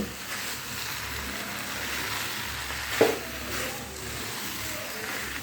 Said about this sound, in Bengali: এর মধ্যে দিয়ে দিতে হবে আগে থেকে ভেজে রাখা আলু আর এঁচড় এখন সব কিছু মিশিয়ে আবারও এক মিনিট মতো একটু কষিয়ে নিতে হবে